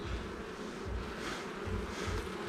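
Honeybees drone steadily around an open hive tower while a beekeeper inspects the frames, a soft continuous buzzing with faint swelling and no voices.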